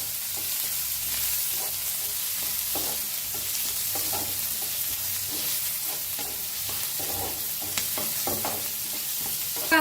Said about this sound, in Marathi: कांदा लसूण असा छान भाजला या.